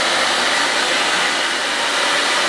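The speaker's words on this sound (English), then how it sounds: "My hairdryer is very hot, by the way." A very hot hair dryer blows on pork skin to dry it for crackling, a loud, close, continuous airy whoosh with a steady motor drone and no talking.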